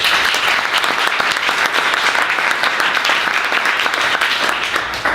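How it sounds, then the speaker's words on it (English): Steady, dense applause from an audience at a summer fiction-workshop reading, welcoming a reader to the stage; clapping holds evenly throughout without voices. "Please help me welcome Jack."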